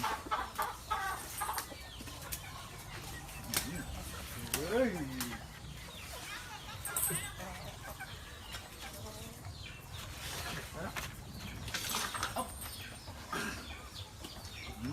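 Farmyard chickens cluck and squawk in bursts near the microphone over a busy outdoor background with mechanical rattling, while people talk now and then in Thai.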